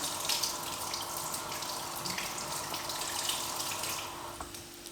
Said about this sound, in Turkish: Ellerimi bir yıkayayım.